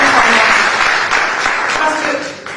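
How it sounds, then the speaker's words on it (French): Audience applause in a lecture hall at a medical conference, a steady dense wash of clapping filling the whole stretch with a slight fade toward the end, with speech-like murmur mixed in. "j'ai vraiment envie de vous applaudir"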